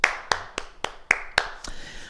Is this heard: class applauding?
yes